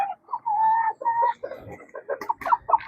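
A brooding hen clucks nearby, a drawn-out low murmur breaking into a string of short, sharper clucks, loud and close with no talking.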